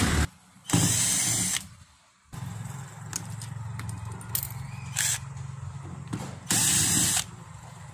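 A power drill or driver whirs in several loud bursts while backing screws out of a washing machine during a clutch replacement, with ratcheting clicks and quieter handling noise between the bursts.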